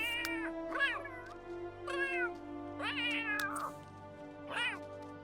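Cats in The Sims 3 meow repeatedly, about five distinct, close, clear calls in an uneven rhythm over a soft background hum.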